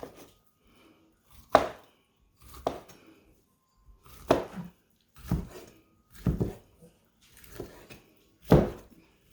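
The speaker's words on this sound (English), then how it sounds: "I'm just cutting up 2 slices to put in my ham" A knife slices through ham on a cutting board in seven distinct chopping strokes, spaced roughly a second apart, each a sharp close thud against the board with quiet gaps between and no talking.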